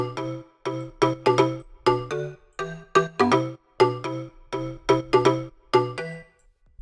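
A deep house synth lead plays a repeating melodic phrase of short, plucky chords with a roomy reverb tail, steady and alone with no voices.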